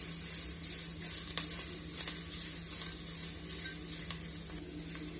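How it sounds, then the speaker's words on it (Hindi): Cabbage stir-frying in a pan for pasta, with a continuous close sizzle and occasional scraping clicks from stirring under a low steady hum. "Cabbage को over cook नहीं करना है, just keep on stirring it."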